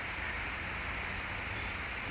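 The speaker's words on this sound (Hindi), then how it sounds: "अच्छा खासा बारिश हो रही है," Steady heavy rain hisses continuously in Shillong, Meghalaya, a dense wash of drops with no gaps.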